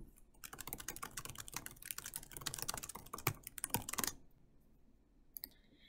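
Rapid typing on a computer keyboard, a dense run of close, crisp key clicks lasting about four seconds, then a pause and a few isolated taps near the end, with no voices.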